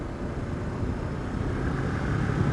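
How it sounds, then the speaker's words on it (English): A Honda CB500X motorcycle engine drones steadily while riding in fourth gear at about 58 mph and 5,000 RPM, a constant low rumble blended with rushing wind. "The engine is just loud enough."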